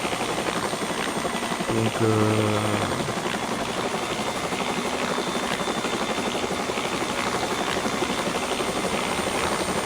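A simulated Bell 206 helicopter lands at La Rochelle in X-Plane 11, a continuous loud turbine roar with steady rotor thrum throughout, and a short spoken word briefly heard over it.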